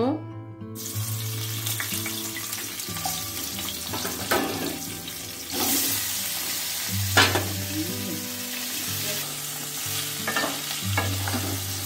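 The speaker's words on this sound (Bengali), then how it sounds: "এখন ভেজে নেব। আলু ভাজার তেলটা রয়েছে, এখন ইচলটা দিয়ে দেব।" Ichol, a vegetable, sizzles and crackles steadily in leftover potato-frying oil, with occasional stirring scrapes, over a constant low hum and some background music throughout.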